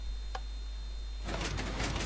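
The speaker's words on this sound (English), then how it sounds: "that's a T flip flop door" A redstone T flip-flop door in the Minecraft video game opens with a short mechanical sliding clatter after a faint click, set against a steady low hum.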